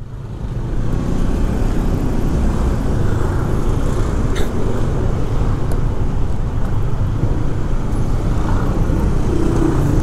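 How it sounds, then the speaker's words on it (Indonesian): Dense, steady roar of busy daytime road traffic on a congested street in Bali between Umalas and Canggu, cars and motorbikes passing continuously at close range with no clear gaps. "Ini jalan yang sering macet teman-teman ya."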